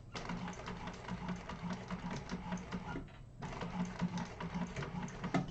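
A sewing machine stitching a bag, a close rapid mechanical chatter running steadily with one brief pause midway before it resumes.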